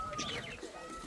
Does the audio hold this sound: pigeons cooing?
yes